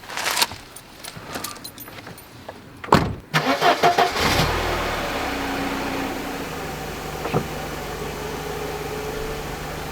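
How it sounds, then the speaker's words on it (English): A Mercedes-Benz C124 car is started after a battery change: keys jangle and click in the ignition, then the engine cranks and catches, settling into a steady, close idle. "Let's start the car."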